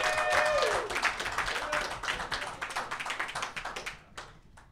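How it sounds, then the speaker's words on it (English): Audience clapping for comedian King Hooker during a live comedy podcast show: dense, sustained applause from a room of people, steady then thinning toward the end, with a brief bit of voice at the start. "Start clapping right now for King Hooker, man."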